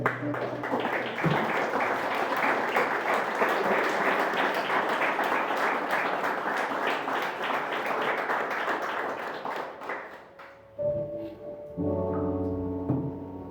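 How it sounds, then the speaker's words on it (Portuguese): A church congregation claps in praise, a loud dense round of applause that tapers off near the end before a few scattered sounds and a voice return. "Uma salva de palmas a Ele."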